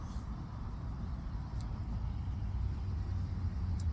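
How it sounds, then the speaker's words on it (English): Steady, dense rumble of three lanes of road traffic circling a roundabout, cars and heavier vehicles blending into a continuous nearby roar with no clear gaps. "Three lanes of traffic."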